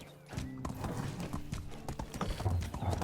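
Horse hooves clip-clop in Medieval Dynasty, a rhythmic series of close, moderately loud hoof steps on the ground under faint ambient background.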